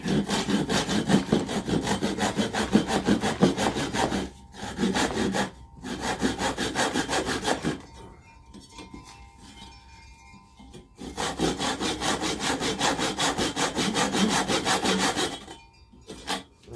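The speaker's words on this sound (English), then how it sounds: "I'll use this saw. It's something like a Japanese saw. It's sharp. And it cuts really good." A sharp Japanese-style hand saw cuts through wood for a porch flower planter, steady rhythmic rasping strokes close up, pausing briefly twice before resuming in long continuous runs.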